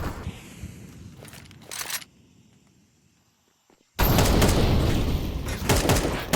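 Bursts of gunfire from a Counter-Strike 2 match, sharp loud shots in quick clusters, a near-silent gap in the middle, then a dense, loud run of firing and impacts.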